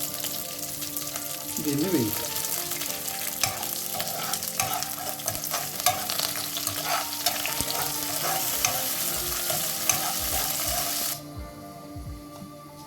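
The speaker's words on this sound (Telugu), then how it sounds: "ఇప్పుడు నూనె వేడైంది కదా, దీంట్లోకి మనం పోపు సామాను వేసుకొని దీంట్లోకి మనం ముందర తీసుకున్న కరివేపాకును కూడా వేసుకుని" Tempering spices and curry leaves fry in hot oil for a brinjal onion curry, a dense crackling sizzle with stirring clinks and a brief spoken remark, ending in a quieter hiss.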